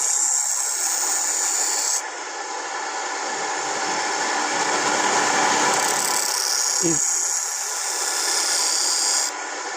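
Scissors being sharpened against a stone on a grinder, a continuous harsh grinding rasp that rises and shifts in pitch, with a brief knock partway through.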